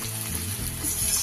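Sliced onions deep-frying in plenty of oil for ilish polao, a loud, continuous close-up sizzle and crackle with occasional stirring, no voices.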